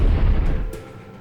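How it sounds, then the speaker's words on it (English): An FPV drone strike sets off an explosion inside a building, a heavy rumbling low boom that swells loudly and then decays into a muffled tail with faint debris rattle, no voices. "An explosion inside killed 2 soldiers."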